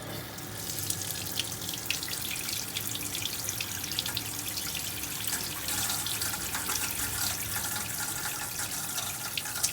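Hot water runs steadily from an RV faucet during winterizing, a close, constant rushing and splashing into the sink that continues without a break.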